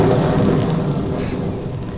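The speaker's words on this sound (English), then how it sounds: "Not in this storm." Thunderstorm with steady heavy rain and a low rumble of thunder rolling throughout, a dense, constant wash of noise with no voices.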